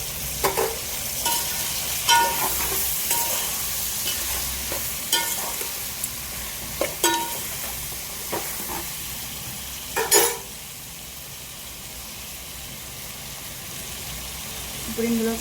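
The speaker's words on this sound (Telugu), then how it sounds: "ఇప్పుడు ఇందులోకి మనం కోసి పెట్టుకున్న టమాటా, ఉల్లిగడ్డ రెండు వేసేది." Chopped tomato and onion fry in a pan for a homemade dalcha-style lentil curry, with a steady low sizzle broken by scattered clinks and scrapes of a stirring spoon, close and fairly quiet.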